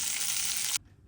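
Turkish garlic sausage sizzles loudly in a pan, a bright, steady crackling hiss that cuts off abruptly after less than a second, leaving near silence.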